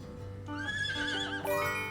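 A horse whinnies in the video game Dawnlands, one rising, wavering neigh of about a second, loud and close, over a steady game backdrop.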